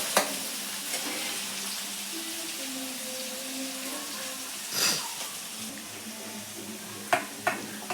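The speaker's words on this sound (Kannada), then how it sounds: "ಲೋ ಫ್ಲೇಮಲ್ಲಿ ಇಟ್ಕೊಂಡು ಸ್ವಲ್ಪ ಫ್ರೈ ಮಾಡ್ಕೊಳ್ಳಿ" Onions fry gently on a low flame for mandakki, giving a soft, continuous sizzle with occasional spoon scrapes and a few sharp clinks near the end.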